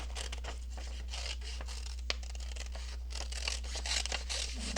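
Scissors snip steadily through paper while angels are fussy-cut for a collage, giving a continuous close crinkly rustle with a sharper snap partway through.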